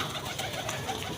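Domestic pigeons in a pigeon-keeping setup coo and rustle close by, a steady soft murmur of several birds with no talk over it.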